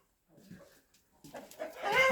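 Faint, close clucks of broody hens, growing a little louder and busier toward the end.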